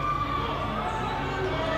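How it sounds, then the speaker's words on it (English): Crowd noise rising at a university women's basketball game, a steady wash of cheering and chatter from spectators filling the gym, loud and continuous throughout. "The crowd getting loud again in support of UOB."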